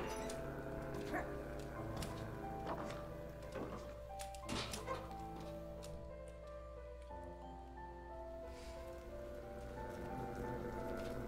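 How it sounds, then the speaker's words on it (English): Steady rain in the video game Night in the Woods patters on a surface with a soft constant hiss, joined by a low musical tone and occasional faint dog-like whimpers. "looks like it's currently raining."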